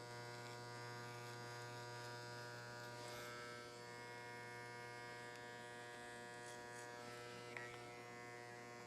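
An electric hair clipper buzzes at a steady pitch while cutting a man's short hair, a continuous faint drone with a few brief shifts as the blade moves, with no talk.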